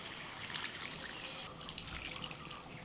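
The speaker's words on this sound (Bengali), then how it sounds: "গরম জল দিয়ে দিচ্ছি" Hot water pours into a pot of spiced chicken for Afghani chicken pilaf, making a soft, close, continuous trickle and splash that stays fairly quiet.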